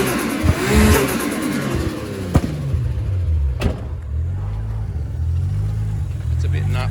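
A Nissan Skyline R33 GT-R V-spec idles nearby with a lumpy, uneven cam rhythm and a low steady rumble, broken by a couple of sharp knocks, while a person talks over it.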